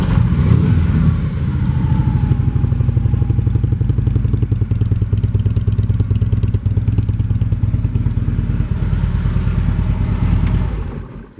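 A 2016 Harley-Davidson Road Glide Special with Vance & Hines exhaust pipes idles close by, a loud, steady, throaty low rumble with rapid even pulsing that runs for about ten seconds, then is cut off abruptly.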